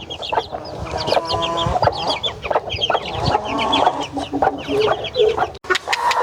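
Several chickens cluck and chatter close by in a busy, overlapping flock, with short sharp calls and occasional louder squawks.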